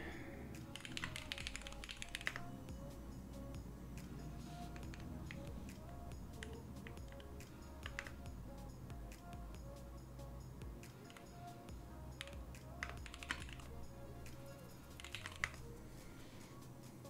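Keys on a Bacca60 mechanical keyboard build clack in brief scattered bursts over a constant background hum, soft and fairly close, with long stretches between the keystrokes.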